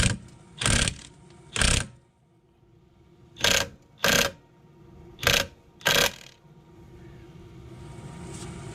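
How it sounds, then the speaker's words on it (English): An 18 mm socket wrench loosens a rear strut bolt on a Nissan Altima, giving six short, loud bursts of ratcheting clicks in pairs, followed by a quiet stretch with a low hiss. "take an 18 mil and get that bolt out"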